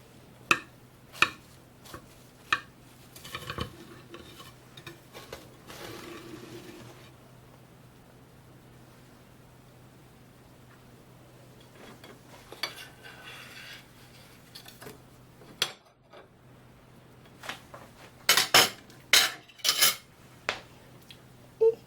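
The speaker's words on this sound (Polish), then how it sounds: "teraz przechodzimy do krojenia tego tortu, żeby zobaczyć jak wyszedł w ogóle" A knife cuts through a crunchy pavlova meringue cake layered with mascarpone cream and fruit, giving sparse crisp cracks and taps, then a denser crunching cluster near the end, with quiet stretches between.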